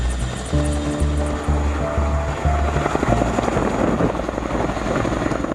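A US military Chinook helicopter sounds loud and close, its heavy rotors thumping in a rapid pulsing beat over a steady engine whine, which then gives way to a broad rushing wash.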